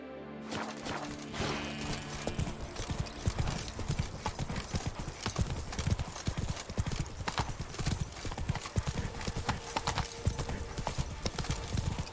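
Roach the horse gallops in The Witcher 3, with fast, continuous clip-clop hoofbeats pounding close and loud over game ambience, and a brief whinny near the start.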